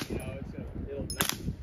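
A gunshot at an outdoor shooting range cracks out sharply near the middle of the clip, and excited voices talk over and around the single report.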